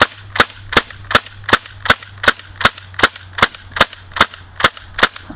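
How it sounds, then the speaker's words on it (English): A CO2 airsoft pistol fitted with an ANT HPA conversion kit fires about fifteen rapid shots in an even rhythm, each a sharp loud crack close by, with a faint low hum underneath. "I'm going to shoot 15 rounds real quick here"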